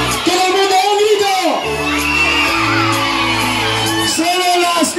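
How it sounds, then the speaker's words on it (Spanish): A party crowd at an outdoor Holi festival in Villaviciosa shouts together in one sustained roar, loud and dense, with an amplified voice leading them over it. "¡Todo el mundo a un grito!"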